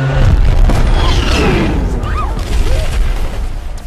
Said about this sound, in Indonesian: mereka terjebak dalam baku tembak yang sedang dilakukan oleh pihak militer